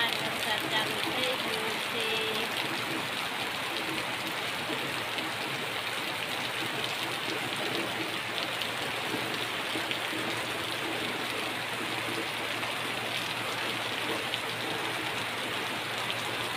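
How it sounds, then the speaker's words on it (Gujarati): Light, steady rain falls over farmland in a rural outdoor setting, a continuous soft hiss that holds evenly throughout with no voices. "અને વરસાદ ઝીનો પડે છે."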